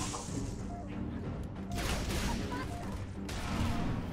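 Muffled gunfire rattles in sustained bursts during Halo 3 ODST combat on Kizingo Boulevard, heard fairly faintly amid steady game noise.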